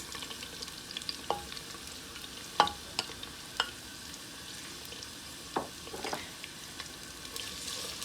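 Onions frying in a pan for black lentil daal, a quiet, continuous sizzle broken by several sharp clinks and scrapes of a spoon stirring against the pan.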